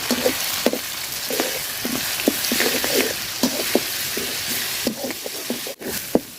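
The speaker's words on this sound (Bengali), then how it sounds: "রসুনটা আমি তেলের সাথে সুন্দর করে ভাজা নিচ্ছি" Garlic paste frying in oil alongside onion and chilli gives a continuous sizzle, with short spatula scrapes and taps as it is stirred. The sound is close and steady and there is no talking.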